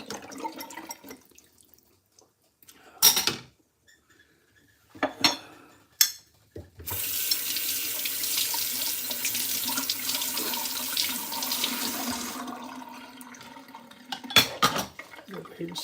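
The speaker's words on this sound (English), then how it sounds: "do dishes on a Monday night" Dishes are washed at a kitchen sink, with a tap running steadily for several seconds amid clinks of plates and cutlery, preceded and followed by brief knocks and handling sounds.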